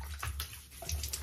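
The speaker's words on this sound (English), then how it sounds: "Let me wet this face and get the shave started" Water splashing and trickling from a sink as a face is wetted with the hands before a shave, soft and close, with small irregular splashes and no talk.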